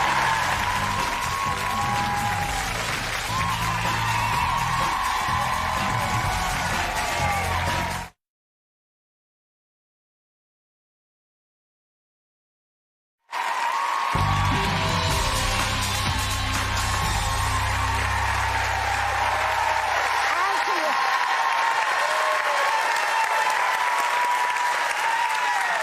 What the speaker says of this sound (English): Extended standing ovation for you.